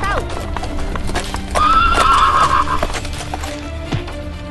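Hunting horses in a cartoon gallop with steady clip-clop hoofbeats as a horse neighs loudly in the middle, the whole scene mixed with other cartoon sound effects.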